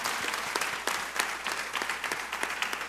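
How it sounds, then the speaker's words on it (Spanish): A women's network audience at a mothers-and-daughters event applauds for Luz, producing steady, moderately quiet clapping that holds evenly for a few seconds with no voices over it. "Un aplauso para Luz, por favor."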